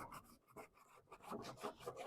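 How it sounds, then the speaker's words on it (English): A block of wax is rubbed along the steel plate of a handsaw, producing quiet, rhythmic raspy strokes, close and intimate, with short pauses between passes and no talking. "you just take the wax and you run it on the surface of both sides"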